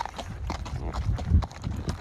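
Horse hooves clip-clop in an irregular walking rhythm, close and fairly loud, on an afternoon trail ride in the Hidden Mesa open space, Douglas County, Colorado.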